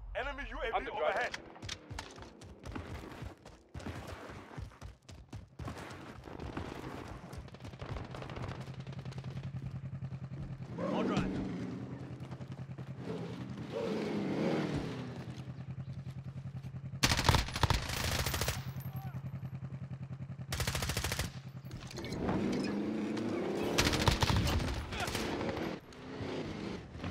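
Scattered automatic gunfire rattles through a 10v10 Kill Confirmed match in Call of Duty Modern Warfare multiplayer, some with an M4A1, coming in sharp bursts and isolated shots over a low steady hum, with a few louder close volleys.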